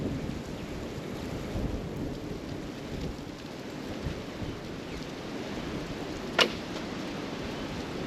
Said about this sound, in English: y'all hear how windy it is